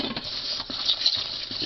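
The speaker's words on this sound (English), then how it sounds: "So we're going to stir them around." Spoon stirring Hershey's Kisses as they melt in a double boiler: soft scraping and light clinking strokes, close and fairly quiet, with no voices.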